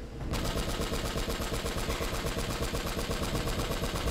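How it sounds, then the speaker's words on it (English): A turret machine gun in the Uncharted video game fires in one unbroken burst of rapid, loud, evenly spaced shots that starts abruptly after a short lead-in and keeps going to the end. "now you have the turret"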